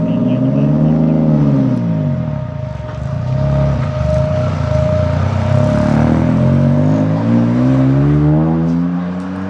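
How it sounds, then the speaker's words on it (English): A hydrogen-fuelled combustion engine revs up and down repeatedly with a loud, steady rumble, pitch rising and falling in sweeping waves, close by. "Would you believe me if I told you this engine ran on hydrogen?"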